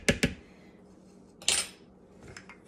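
A metal spoon clinks against a bowl while baking soda goes into plantain crêpe batter: two quick bright taps, a pause, then a louder clatter and a faint final tap.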